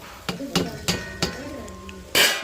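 A metal spoon clinking against a cooking pot as potatoes are stirred into rice for potato rice, with four sharp, evenly spaced taps followed by a louder scraping clatter at the end.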